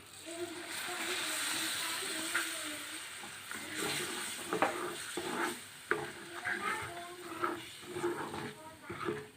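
Tamarind soaking water poured into frying pickle masala brings a rush of hissing sizzle, then bubbling and repeated scraping stirs against the pan, with a voice talking over it.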